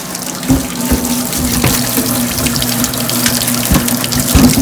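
Cucumbers, zucchini and squash are rinsed under a running kitchen tap, a loud, steady gush of water splashing into a sink with occasional knocks as the vegetables are handled.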